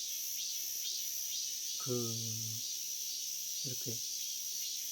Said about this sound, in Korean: 이 매미 소리를 듣고 있으니까